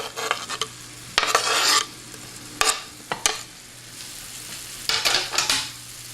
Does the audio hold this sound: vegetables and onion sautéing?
yes